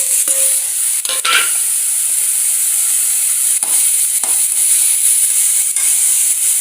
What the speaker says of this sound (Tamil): பீட்ரூட் நல்லா வதங்கிடுச்சு.